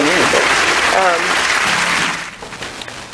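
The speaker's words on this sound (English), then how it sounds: "We got the claps." A small studio audience at a radio show claps briefly over overlapping talk, with the clapping fading out after about two seconds while voices continue.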